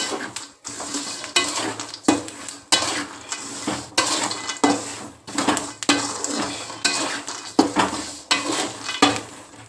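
Roasted salted peanuts shaken and sifted in a metal sieve or pan to knock off the salt, a repeated rhythmic rattling and scraping in short bursts, close and fairly loud, with no talk.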